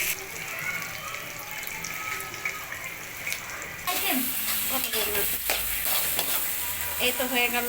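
Taro leaves stir-fried in a pan with shrimp, giving a steady close sizzle. Around the midpoint it turns louder and busier, with scraping stirs and clatter over the frying.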